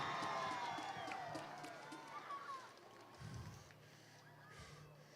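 Crowd at a U.S. Capitol Christmas tree send-off festival cheering loudly for Baby Dog, a burst of shouts and applause that fades over a few seconds.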